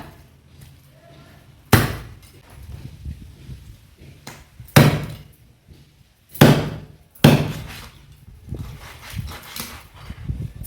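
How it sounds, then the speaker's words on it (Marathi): A heavy knife striking through the head of a hilsa fish on a cutting board, four loud, sharp chops spaced a second or more apart, with quieter handling noises between them. "डोक्याची बाजू कापताना डायरेक्ट असा मधना कट मारायचा आहे आणि कातीचा मोठा फटका मारून घ्यायचा"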